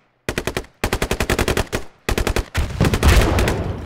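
Automatic gunfire in the military shooter game Squad: several loud, close bursts of rapid rounds separated by short gaps, ending in a longer, denser volley with heavier booming under it.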